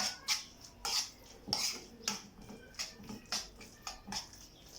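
Utensil scraping and clinking against a pan while béchamel sauce is stirred into a chicken crêpe filling, a steady series of short taps and scrapes at an even rhythm, fairly quiet and close.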